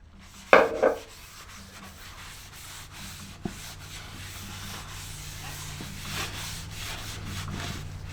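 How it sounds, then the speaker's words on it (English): A rag rubs a shellac and tung oil mix onto a live edge wooden bowl, giving a soft, steady scuffing close up after a brief knock at the start. "I'm just going to apply this with a rag."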